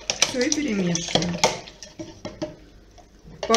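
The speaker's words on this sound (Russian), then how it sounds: "И перемешиваем." A spoon clinks and scrapes against a bowl in irregular strokes while stirring yeast into milk, a voice speaking over the stirring.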